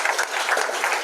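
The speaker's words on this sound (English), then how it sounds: "Can we clap for ourselves, please?" An audience at a national pitch competition in Burundi claps steadily, a dense, even patter of many hands filling the room with no voices over it.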